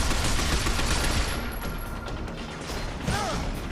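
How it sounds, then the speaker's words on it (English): Dense, loud gunfire fills a firefight in the shooter game Binary Domain, a continuous roar of rapid shots and crashes that eases slightly midway before swelling again. "shoot the guys behind me."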